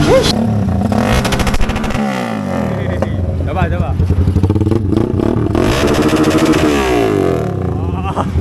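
Sport motorbikes rev at a big-bike meet, engines rising and falling nearby with rattly clatter, while people talk loudly over the noise.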